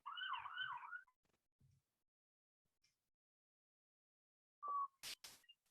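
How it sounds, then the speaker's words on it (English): A faint, distant siren wails and warbles for about a second, followed by quiet and then a few sharp, brief knocks and clicks. "there's a siren going by"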